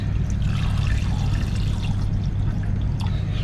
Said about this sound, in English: I'm just going to top it up with hydrochloric acid.